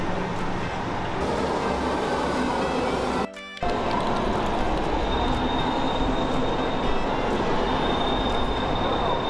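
Steady loud rumble of a German train in motion heard from inside, with rattling and wheel noise, briefly interrupted by a short dropout.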